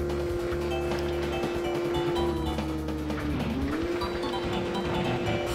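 Steady engine drone from a car racing in the Road Trip Adventure video game, a sustained mid-pitched hum that dips briefly and recovers over a low rumbling, busy game soundscape with no talking.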